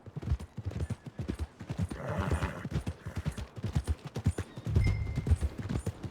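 In Red Dead Redemption 2, horse hooves clip-clop steadily in a quick, even rhythm, close and fairly loud, with a brief neigh-like swell in the middle and faint background game ambience.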